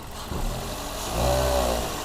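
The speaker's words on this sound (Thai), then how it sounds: "นี่ครับเสียงเครื่องยนต์นุ่มนะครับเสียงเครื่องยนต์ไม่มีเขกไม่ มีไม่มีเขกนะครับ" A Toyota Vios 1.5E VVT-i car engine idles steadily nearby, a low continuous hum that swells slightly louder partway through, with no voices.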